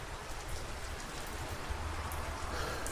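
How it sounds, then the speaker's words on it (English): Steady rain patters outdoors with a light wind, a soft, even hiss of drops falling on surfaces that continues unbroken and fairly quiet, with no voices. "a little bit windy and a little bit rainy."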